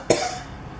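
A single short, sharp cough sounds close to the microphone, then fades into quiet room noise.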